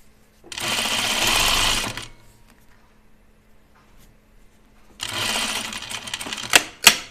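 A sewing machine stitching a Lucerne blouse runs in two steady bursts, close and clear, separated by a quiet pause, with a few sharp clicks at the end as the fabric is pivoted.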